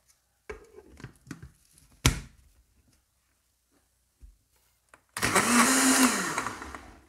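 After some knocks and clunks, a countertop blender roars on loud and close, blending frozen spinach into a breakfast smoothie, its motor pitch dipping and rising under the load for about two seconds.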